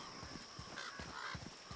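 Crows in the God of War video game give a run of harsh, raspy caws, several quick calls in a row, set against a constant game background hum.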